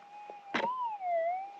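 A Minelab GPX 6000 metal detector sounds a target signal over buried gold ground: a steady warbling tone that rises and dips slowly, broken once by a brief scuff or knock near the coil.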